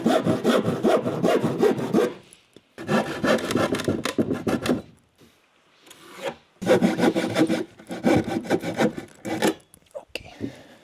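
A handsaw cuts half an inch off a piece of wood at an off-grid Alaska homestead, rasping in three long rhythmic runs of quick back-and-forth strokes with short pauses between them, close and loud.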